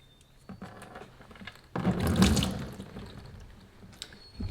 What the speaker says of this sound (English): Once all the fluid is drained